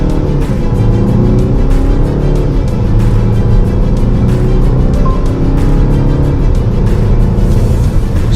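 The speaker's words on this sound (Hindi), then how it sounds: "ये मैंने इकोनॉमी मोड में डाल लिया, तो ब्रेक पे पैर है, एक्सेलरेशन पेडल पूरा दबा रखा है।" A 2023 Citroen C5 Aircross accelerates hard from a standstill in economy mode with the pedal floored, its engine roaring loud and close as revs climb through a couple of gear shifts, heard from inside the cabin with no talk.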